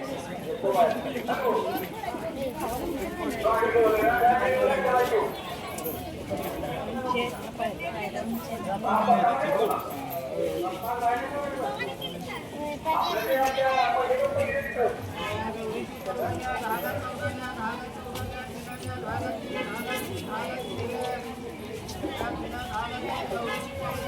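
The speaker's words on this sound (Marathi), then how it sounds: "गर्दी किती आहे" A large crowd of visitors at a goddess temple in Satara district keeps up a dense, continuous chatter, with louder swells of nearby voices over a steady background murmur.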